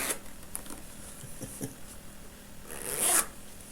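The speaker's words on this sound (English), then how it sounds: "The zip's a bit tight. I think it wants a little bit wax on the zip to. That's it. Open." A tight zip on a case is worked open in a series of short, rasping tugs that finish in one louder zipping pull, heard up close and fairly quiet with no talking.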